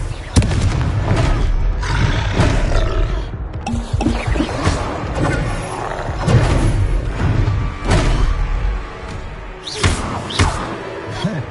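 Repeated booming thuds and slamming blasts from Confringo spell explosions in Hogwarts Legacy, a dozen loud sharp impacts spaced irregularly over a busy, rumbling combat din.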